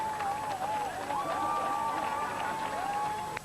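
A crowd at a 2005 strongman Grand Prix event in Poland cheers and claps continuously at moderate distance, a steady wash of applause with a whistle-like tone running through it.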